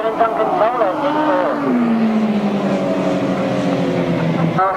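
Grasstrack sidecar outfits racing at a 1998 meeting at Collier Street, engines whining and rising then falling in pitch as they pass, heard under a loud commentator's voice throughout.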